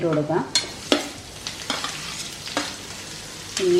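Garlic, then onions, sizzle in hot oil in a pan while being stirred for aloo gobi curry, with steady frying crackle and a few scraping strokes of a spoon, close and clear without speech.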